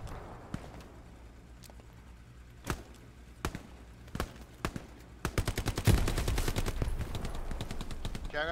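Gunfire in a World War II shooter game with a Thompson submachine gun: scattered single shots at first, then a dense rapid burst of automatic fire, close and loud over a low ambient background.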